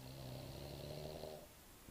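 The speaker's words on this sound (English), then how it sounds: "So you'll still snore in that position." A sleeping pet snores in steady, close rasping breaths that fill most of the moment and then trail off into quiet.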